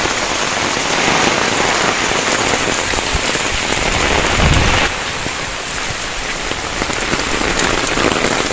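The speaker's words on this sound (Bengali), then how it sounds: "এত পরিমাণে ঝড় বৃষ্টি হচ্ছে, গাছপালা ডালাগুলো ভেঙে ভেঙে পড়ছে।" Heavy rain pounds down steadily during a violent cyclone storm, Cyclone Sitrang in Bangladesh, with strong wind breaking tree branches; a dense, loud continuous roar of rain with a brief deeper rumble near the middle, no voices.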